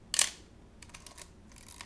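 A single sharp mechanical shutter click from a Pentax K1000 35mm film camera, close and crisp, followed by faint small handling clicks in a quiet room.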